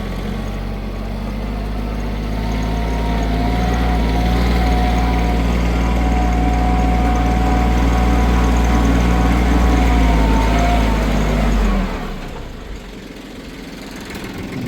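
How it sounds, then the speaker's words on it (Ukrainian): A tractor pulling a plough through a garden drones steadily at close range with a low, throbbing idle-like rumble, then drops off sharply near the end. "Це якраз і перевага цього трактора, що тут можна орати по городах."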